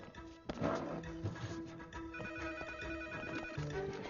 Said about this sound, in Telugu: నారాయణ సార్, మీకే ఫోన్.